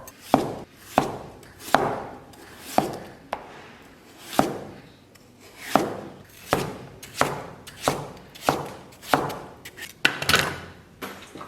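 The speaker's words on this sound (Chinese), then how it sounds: "最后咱们家里边硕果仅存的2个大土豆啊，先给它切成这种小条" A knife cuts two large potatoes into small strips on a cutting board, a steady series of crisp thuds about one per second that speeds up toward the end, near and clear with no talking.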